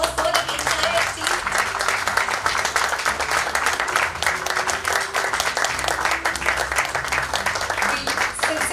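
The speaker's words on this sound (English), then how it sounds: "Can we have a huge round of applause for the entire team?" A crowd at a stock market listing ceremony for KK Silk Mills Limited applauds steadily and densely, sustained clapping throughout with voices underneath.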